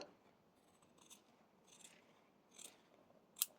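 Scissors snip through fabric while sewing a bag, several faint, close crisp cuts spaced irregularly, the last one sharper and louder, in a quiet room.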